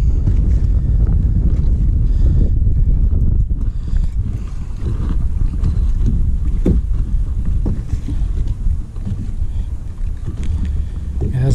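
Strong wind buffeting the microphone on a lake during a crappie fishing trip from a boat, a loud continuous rumbling roar with gusting surges and faint water sounds, no clear talk.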